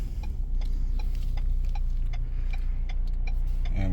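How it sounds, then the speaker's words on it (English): The turn signal blinker of a 2022 Ford Bronco Outer Banks ticks in a steady, even rhythm of crisp clicks, heard inside the cabin over a low engine rumble. "We'll put blinker on because obviously we got to follow the rules"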